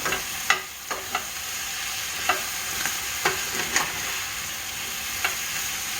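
Chili powder being stirred into a chili mixture in a pan for chili cheese dogs, with a spoon scraping and tapping in scattered strokes over a steady sizzle, close and alone.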